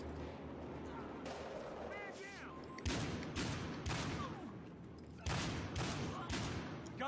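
Rapid bursts of gunfire from a new M4 shotgun in Battlefield Hardline multiplayer on PS4, with loud, overlapping volleys of shots and a steady backdrop of battle noise under a voice.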